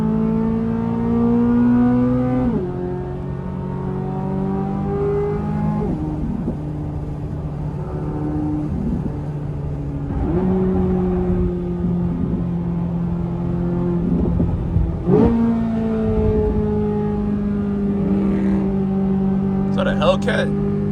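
Corvette C8 Z06 engine on a late-night drive, a steady interior drone with gear shifts every few seconds where the pitch drops and climbs again, loud and close throughout.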